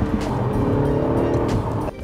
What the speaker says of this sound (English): You can hear it? You can hear the turbo,